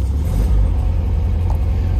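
A 1967 Volkswagen Beetle convertible engine runs just after starting, a steady low rumbling idle that stays close and even, with no one talking over it.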